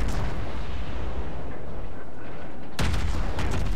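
Naval cannons fire in World of Warships, a British Minotaur cruiser: a heavy rumbling blast fades into a roar, then a second sharp boom hits near the end.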